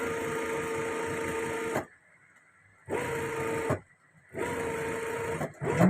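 An electric sewing machine stitches a seam on a prince coat during a tailoring alteration, running in three steady mechanical bursts separated by short pauses, close and fairly loud with a constant whirring drone.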